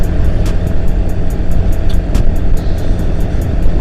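Dense, loud road traffic on a congested highway under roadworks, with cars, big trucks and motorcycles droning continuously close by, a steady low rumble with faint repeated ticking on top.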